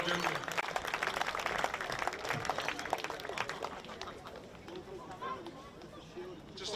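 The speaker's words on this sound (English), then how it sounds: "round of applause, ladies and gentlemen" Crowd applause and cheering at an under-16 Super Rugby grand final between NSW Waratahs and Queensland Reds, loud clapping and babble early that thins toward the end, with voices talking through it.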